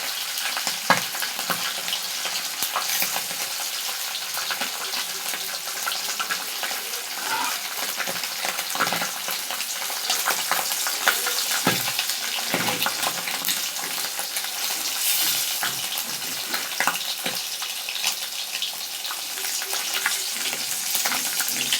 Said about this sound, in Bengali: এগুলো তো জিওস মাছ, বেশি না ভাজলেও হয়।